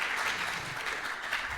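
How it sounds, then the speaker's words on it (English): Brief round of applause from an audience, a short, moderately quiet patter of many hands clapping at an even level. "Just give her a round of applause."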